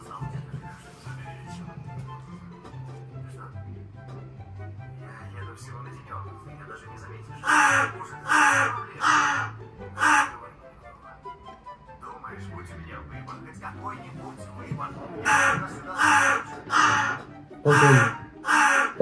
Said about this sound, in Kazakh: Балконда қарға тұрма.